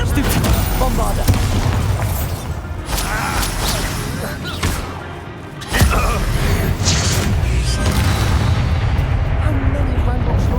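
Bombarda blasting spells go off in Hogwarts Legacy, giving heavy, rumbling booms over constant combat noise, with a brief drop in level and then a sharp louder blast, while a voice talks over the action.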